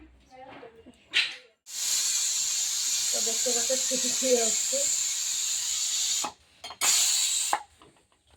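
An old pressure cooker, held down because its weight won't lift, gives off a loud, steady steam hiss lasting several seconds, then a short second burst. Brief speech comes before and during the hiss.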